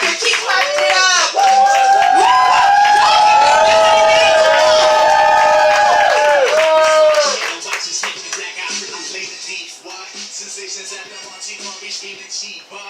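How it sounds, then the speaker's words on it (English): Open mic poetry audience in Chicago clapping and cheering loudly for a poet, a dense burst of claps and whoops for about seven seconds that then thins into scattered claps as voices talk. "Keep clapping it up"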